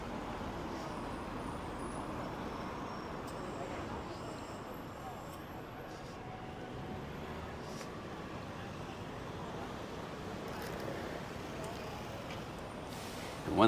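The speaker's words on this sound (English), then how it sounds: "A lot of kind of through traffic for many of the hotels and everything in this area" Steady street traffic on Passeig de Gràcia in Barcelona, a hotel area with cars and bikes, heard as a constant rumbling wash of passing vehicles at moderate distance, with no clear speech.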